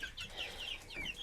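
New chicks in a brooder during evening chores, with a mixed batch including Polish chicks, give steady high-pitched chirps and peeps that repeat throughout, close and continuous with no talking.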